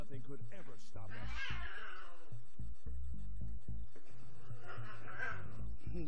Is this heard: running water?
no